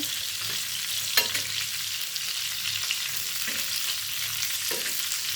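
Green chilies frying in a pan, a steady soft sizzle with occasional stirring scrapes and light taps, close and continuous throughout.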